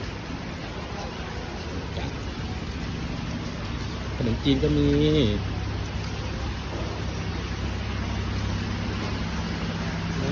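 Steady rain falls over a busy fresh market during a storm, a broad wash of noise running throughout, with a person speaking briefly in the middle.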